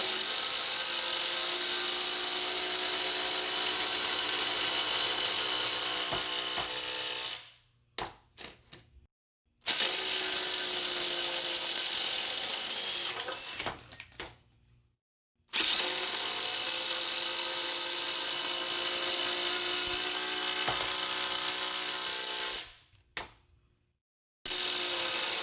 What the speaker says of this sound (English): So doing just a basic test on a rather decent sized lag bolt, you can see and form your own opinion about the Bauer from Harbor Freight